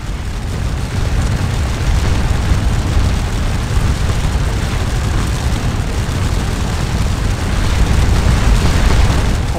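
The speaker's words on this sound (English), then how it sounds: "the cannons continue to bombard the French as they move up" Cannon fire on a Napoleonic battlefield in the Waterloo strategy game Scourge of War, with artillery bombarding advancing French troops: a continuous loud, rumbling low-end barrage of booms with no talking.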